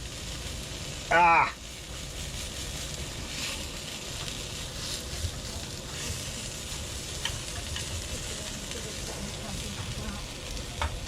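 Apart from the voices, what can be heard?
sausages sizzling while frying on camping stove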